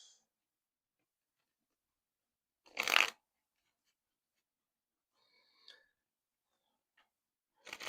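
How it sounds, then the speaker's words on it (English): A Thoth Tarot deck is shuffled in a short, crisp burst of card rustling, followed by a few faint taps and another brief shuffle at the end, in an otherwise silent room. "We'll finish the reading off with the Thoth Tarot deck."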